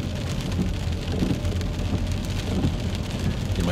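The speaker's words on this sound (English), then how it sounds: "especially when the rain's this heavy" Heavy rain drums loudly and steadily on a car during a driving lesson, a dense continuous patter from inside the vehicle with no voices.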